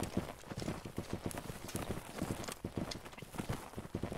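Horse hooves in the Holdfast video game clop along in a quick, steady gait, moderately loud and continuous with faint background noise.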